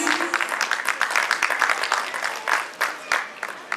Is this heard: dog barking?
no